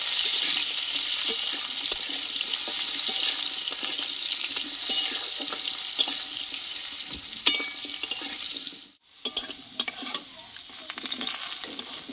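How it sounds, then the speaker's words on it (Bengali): Diced potatoes with turmeric powder fry in a pan, a loud, steady close-up sizzle with scattered stirring clatter throughout, briefly cutting out near the end before resuming. "আলুটা একটু হলুদ গুঁড়ো দিয়ে দেবো, দিয়ে আলুটা আমি কষে নেব।"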